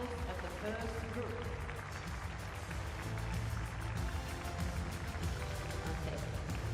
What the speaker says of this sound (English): please welcome with big applause the couples of the first group